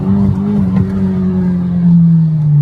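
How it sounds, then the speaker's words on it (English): Nissan Silvia S15 Spec R with a loud aftermarket exhaust accelerating in first gear, a close, raspy engine note that climbs briefly, then settles into a sustained drone. "This exhaust is definitely louder than my 34 GT-R, that's for sure. That was just a little bit of first gear for you"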